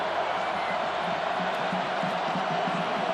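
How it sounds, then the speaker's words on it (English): Dense, steady roar of a packed stadium crowd at the 2006 Ohio State vs. Michigan college football game, a constant wash of voices with an announcer talking over it. "crowd noise, such a huge factor right now on these real short yardage plays"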